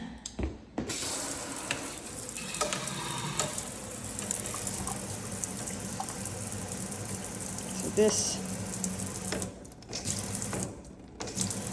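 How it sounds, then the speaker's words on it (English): Water runs from a tap in a house being shown for sale, a steady hiss and splash throughout with brief interruptions, as someone talks over it. "let's turn on the water."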